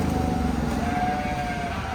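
Sheep bleat in the livestock barn at a county fair, a steady wavering call close by over a constant background hum of the crowded barn.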